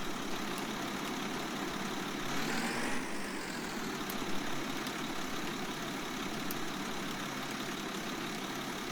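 Tractor engine idles and runs in Farming Simulator 19, a steady low mechanical hum with a brief rising revving sweep near the start, alone without talk.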